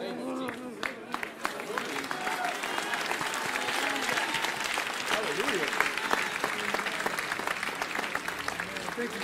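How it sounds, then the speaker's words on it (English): An audience claps loudly and steadily during a church service, a dense rattle of many hands with voices calling out over it. "Is that how you're clapping for Jesus?"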